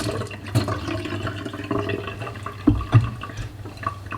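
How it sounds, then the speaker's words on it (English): Water from a tap runs and splashes over raw chicken pieces being rinsed for soup, a close, uneven gurgle with a few louder splashes and drips, alone without talk. "Just washing off excess blood that stayed behind."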